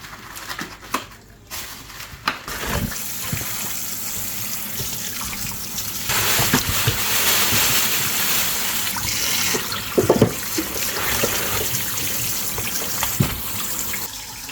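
Tap water runs steadily into a sink while raw pork leg meat is rinsed under it, the gushing stream loud and continuous with brief splashes and shifts as the meat is moved about.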